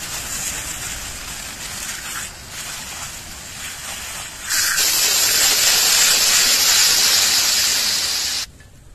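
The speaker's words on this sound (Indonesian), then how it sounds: "kita akan semprotkan ke api ini guys" A 1 kg APAR fire extinguisher sprays onto a fire, starting midway as a loud, steady rushing hiss that holds for about four seconds and then cuts off, after a quieter stretch of background noise.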